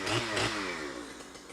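A chainsaw on a forestry and fire crew cutting trees gives a short, loud, close burst of engine noise, then its pitch drops and it fades as it winds down.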